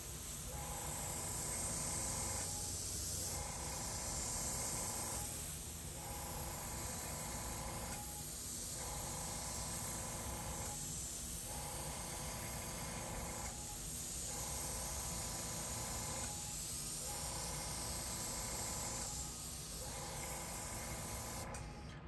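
An airbrush sprays paint in a steady, close hiss while clouds are shaded in, broken by short regular pauses and restarts roughly every two to three seconds, with no talking.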